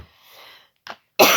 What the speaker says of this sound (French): C'est terrible de tousser comme ça